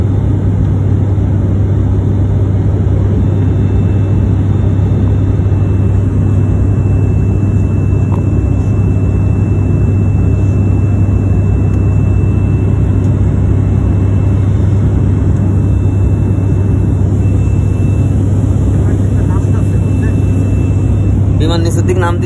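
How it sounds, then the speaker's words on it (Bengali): An airplane descends to land near the sea, a steady loud low engine drone with a constant hum running unbroken throughout, no talk. "বিমান নিচের দিক নাম দিছে।"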